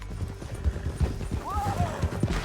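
Horse hooves clip-clopping at a steady rhythm while riding in Red Dead Redemption 2, with a brief whinny partway through and game sounds and voices around it.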